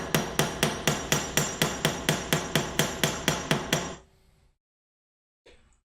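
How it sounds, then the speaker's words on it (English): A metal hammer pounds a wooden shadow-box piece flat in a woodworking shop, about fifteen sharp, evenly spaced blows in quick succession, then a pause and one faint knock. "this is the only time you ever want to be beating wood with a metal hammer"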